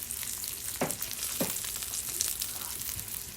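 Tomahawk ribeye steak sizzling on a Blackstone griddle, a steady close frying hiss with a few brief scraping or popping accents and no talk.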